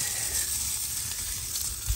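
Meat searing in a hot pan, a steady broadband sizzle and hiss held close for the whole stretch, with small crackling pops and a faint low thump near the end.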